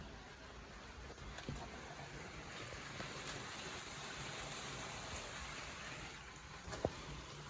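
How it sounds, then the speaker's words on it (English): Rain falls outside in a soft, steady hiss, faint and even, with a couple of brief light taps standing out. "I can hear the rain."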